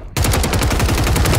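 Gunfire in the video game Warzone 3: a loud, close, rapid string of evenly spaced shots that starts abruptly after a short quiet moment and runs without pause.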